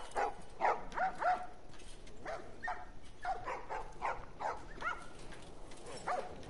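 Dogs bark and yip in the video game The Last of Us, a quick cluster of barks followed by scattered, irregular yaps over low background ambience.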